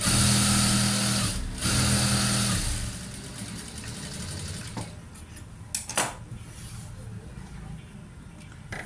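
A sewing machine runs steadily, stitching a folded blouse back piece in a loud, close, whirring burst, then stops, leaving quieter handling noises and a voice.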